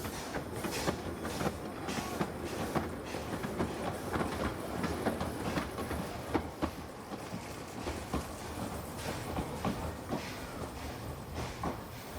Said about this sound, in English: Pamela is a large quarry class locomotive built for the Penrhyn slate quarries in North Wales.